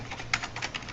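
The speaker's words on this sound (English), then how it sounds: "Let's type in an IP address of" Rapid typing on a computer keyboard while entering a router IP address during network configuration in Packet Tracer, with a steady run of soft key clicks and one sharper keystroke near the start, close and fairly quiet.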